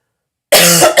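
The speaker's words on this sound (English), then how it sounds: "I'm about to have a coughing fit" A person coughs harshly and loudly right at the microphone, a sudden burst after silence with a second cough starting at the end.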